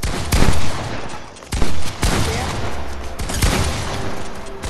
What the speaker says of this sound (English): Bro, you shooting at me.